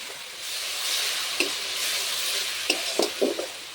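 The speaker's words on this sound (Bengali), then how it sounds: "টমেটোটা গলে যাবে আর মশলাটা সুন্দরভাবে ভাজা হয়ে যাবে।" Tomato, salt, dried chillies and spices stir-fry in a pan with a little water, giving a close, steady sizzle with a few sharp scraping stirs toward the end.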